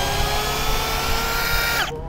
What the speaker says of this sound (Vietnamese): Vít 7 phân mà nó vặn vậy là cũng khá là ngọt đấy ha.